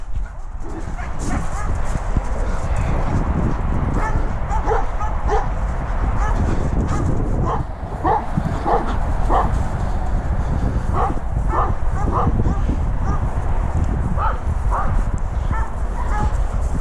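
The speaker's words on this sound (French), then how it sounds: "Un grand chien, le Sam" A large dog barks repeatedly in short bursts with occasional whimpers, over steady outdoor rumble and scattered voices.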